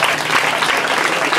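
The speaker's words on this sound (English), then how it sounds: "How about a round of applause for Brandon and his mother?" Loud, dense applause from a wedding crowd honoring the mother-son dance, steady and close throughout the short stretch.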